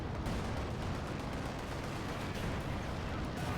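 Mortar and tank fire in the World War II strategy game Company of Heroes 2: a dense, continuous roar of artillery blasts and gunfire, with heavy booms overlapping throughout at steady loudness.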